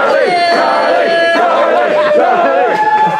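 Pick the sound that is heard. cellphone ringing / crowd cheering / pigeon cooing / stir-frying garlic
crowd cheering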